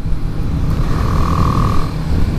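Steady engine drone from a 2018 BMW G310R motorcycle held at 5,000 RPM in top gear while cruising, a continuous loud low rumble with a brief faint higher whine midway and no talking.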